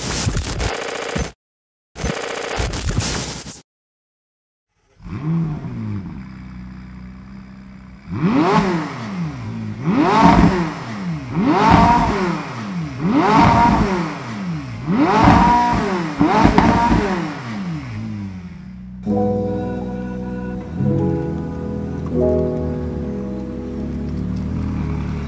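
McLaren 675 LT sports car engine revving hard in a rapid series of about six sharp blips, loud and close, followed by a steadier idle with clattering.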